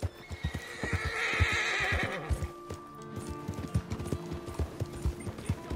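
A horse in Red Dead Online whinnies in a loud, drawn-out neigh, then its hooves clip-clop in a steady, close rhythm.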